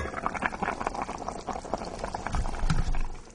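Tripoux stew in white wine simmering in a pot, giving a steady, close bubbling and soft liquid burbling that runs throughout and swells slightly toward the end, with no voices.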